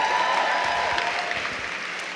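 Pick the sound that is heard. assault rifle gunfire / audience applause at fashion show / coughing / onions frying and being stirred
audience applause at fashion show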